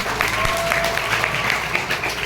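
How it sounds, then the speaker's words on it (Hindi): An audience at a Hindi religious talk bursts into loud, sustained applause, dense clapping filling the whole stretch with a faint voice or two underneath. "सभी लोग तालियां बजाइए जोर जोर से।"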